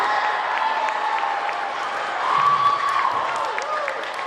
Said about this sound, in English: Now we can all applaud and cheer for all the people who are participating in ABL activities